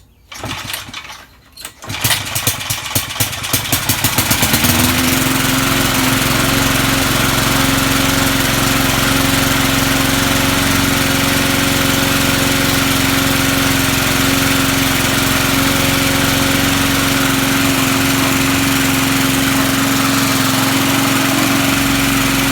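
A vintage Sears Montgomery Ward push mower engine is pulled over, sputters, catches and then settles into a loud, steady running drone that continues at close range with no talking.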